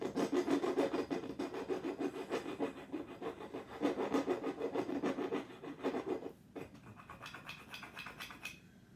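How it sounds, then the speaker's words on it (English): A big file rasps steadily back and forth over a rusty tool being refurbished. The gritty scraping strokes repeat close and loud for several seconds, then turn lighter and more scattered near the end. "Big file can make your job easier too."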